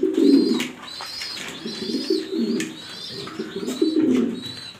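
Pigeons in a loft in Mirpur, Dhaka, coo in repeated low, throaty phrases, with a few higher chirps mixed in. The birds sound close, and no one speaks.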